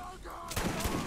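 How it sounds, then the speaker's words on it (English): Rapid gunfire from the video game Borderlands 1, played as Lilith while farming, breaks out in a loud, dense burst of shots through the second half, after a quieter stretch at the start. "That was a lot of shots on that one."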